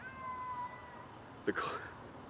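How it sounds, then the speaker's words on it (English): A cat gives a single short meow, fairly faint and brief, rising out of a quiet room with a soft background hum; a person's voice is heard faintly before it. "Nice cat."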